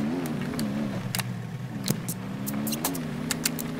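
A game engine from the off-road driving sim Spintires starts up and revs, a steady mid-pitched motor drone rising and falling over several seconds, with sharp clicks and knocks scattered over the top.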